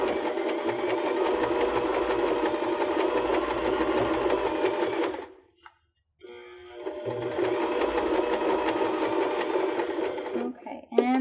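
A sewing machine runs in two long steady bursts as trims are stitched onto a cork strap purse, a dense mechanical whir with a short silent pause between them and a brief clack at the end.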